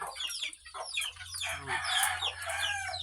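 Chickens and young chicks cluck and chirp close by on a backyard poultry setup, a busy overlapping chorus of short calls with a brief crow-like note, no talking.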